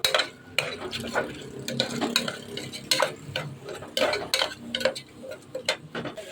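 A spoon scrapes and clinks against a pan as beetroot biryani masala is stirred together with curd, giving irregular metallic taps and scraping strokes over a soft background sizzle.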